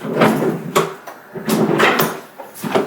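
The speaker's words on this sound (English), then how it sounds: "Door swings closed." A walk-in bathtub door swinging shut, heard as a few short knocks and latching thuds spread over about three seconds, close by and fairly loud.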